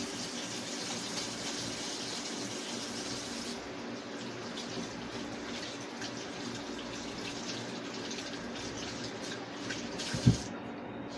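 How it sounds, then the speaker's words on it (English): Tap water runs steadily from a faucet as hands are washed in a kitchen sink, a soft continuous splashing hiss throughout, with one brief knock near the end. "And wash my hands."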